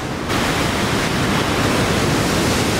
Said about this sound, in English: you can hear the waves just pounding, and that's Sunset Beach